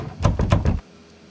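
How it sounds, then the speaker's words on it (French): In the horror video game Dread Flats, someone tries a locked door and it rattles and thuds about four times in quick succession, then stops short. The knocking is close and solid, and nothing else is heard afterward. "Non, la porte est verrouillée, donc le jeu attend de moi que je fasse autre chose."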